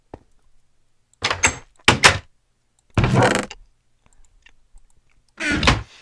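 Wooden door in a Minecraft modpack game opening and closing: several short, separate clunks and thumps with silent gaps between them and no talking.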